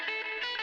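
An electric guitar played through an envelope filter pedal with reverb rings out in a sustained, bright, swelling tone with a wah-like sweep, alone and up close.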